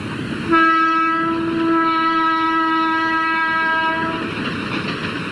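A train passes on a railway line beside the tomb of Nur Jahan, with a long, loud horn blast of several seconds over the rumble of the moving train, close by.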